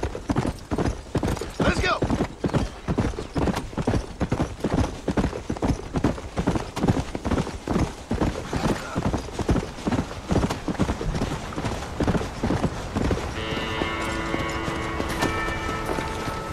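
A horse gallops in a fast, steady drumming rhythm of hooves, loud and continuous, with a short snatch of music near the end, in the video game Red Dead Redemption.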